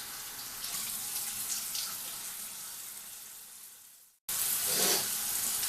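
A bathroom tap runs steadily as a face is rinsed, a close hissing splash that fades, cuts out briefly, then gushes back louder.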